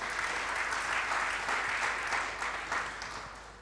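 A church congregation breaks into sustained applause to acclaim the Lord. The clapping is dense and steady, then fades gradually toward the end.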